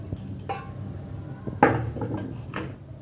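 Metal utensil clinks and scrapes in a pan while meal maker and chopped cucumber are stirred together for a salad, a few light irregular knocks close by with no talking.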